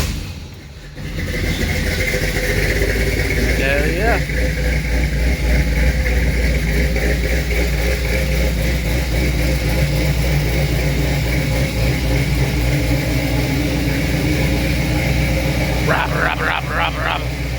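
A small block Chevy V8 with a Hyperspark ignition module idles steadily in a 1931 Ford Model A, a loud, even rumble that runs throughout, with a man's brief exclamation near the start and short voice sounds toward the end.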